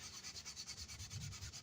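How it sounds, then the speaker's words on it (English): A worn box cutter is scrubbed to remove paint and debris, giving a quick, even back-and-forth rubbing rhythm, close up and fairly quiet. "Boring as it is, it's just me scrubbing a tool."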